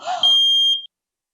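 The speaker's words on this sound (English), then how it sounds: "sets off smoke alarms" A smoke alarm gives a single shrill electronic beep, loud and close, held for about half a second before cutting off into silence.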